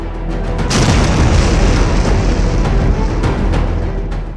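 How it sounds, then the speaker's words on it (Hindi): A loud, deep explosion booms and rolls on for several seconds as a heavy rumbling roar, with no voices. "धमाका इतना जोरदार कि गूंज अंकारा से लेकर वॉशिंगटन तक सुनाई देती है।"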